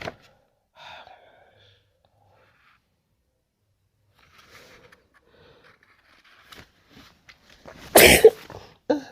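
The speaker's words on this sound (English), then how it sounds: "This one's sneezing again." A single sharp sneeze bursts out near the end, loud and close, after a stretch of near silence with a few soft rustles.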